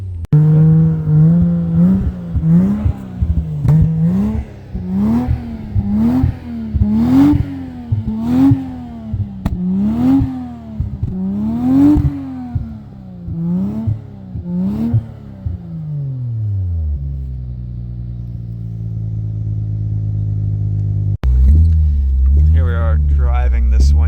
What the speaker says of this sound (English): This thing makes cool noises actually, for being a stock 1JZ.